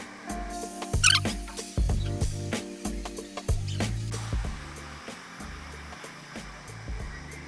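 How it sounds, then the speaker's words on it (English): A hair dryer blows steadily while hair is combed through at the edges during a Dominican blowout, with a comb and handling clatter and rhythmic shifts in airflow throughout, close and fairly loud. "Right now we are blow drying all of the edges with the comb"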